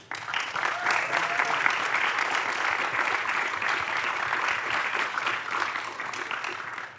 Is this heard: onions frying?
no